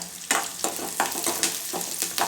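Ingredients fry in hot oil for a breakfast dish, a continuous sizzle punctuated by regular stirring strokes about every half second, close and fairly loud.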